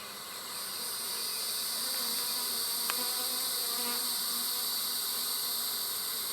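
Honey bees buzz continuously around an open hive during a frame-by-frame inspection, a dense, steady drone close by with a faint tap partway through and no talk.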